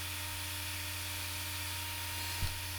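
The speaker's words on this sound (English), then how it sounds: "Now I'm only taking off 1/8 of an inch on each pass, and that's going to help save my bit and not overwhelm the router." A router cuts wooden cabinet handles in shallow eighth-inch passes, giving a steady, even motor whine that holds throughout with one brief bump near the end and no talking.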